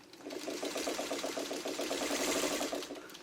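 Sewing machine quilting curves, a rapid even needle chatter running steadily through nearly the whole stretch, close and moderately loud, with no talking.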